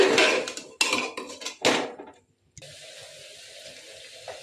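A spoon scraping and clanking against a cooking pot while washed red lentils are stirred together; several sharp metallic clatters in the first two seconds, a brief pause, then a quieter, steady sizzle-like hiss.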